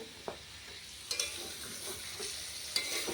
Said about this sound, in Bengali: এবার রান্না হচ্ছে চিকেনটা তো চিকেনটা আমি অনেক আগে থেকে ম্যারিনেট করে রেখেছিলাম